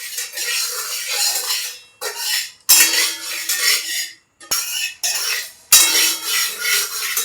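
Rice roasts in a pan while a metal spoon stirs and scrapes it in repeated bursts, with sharp clinks against the pan between pauses, close and fairly loud.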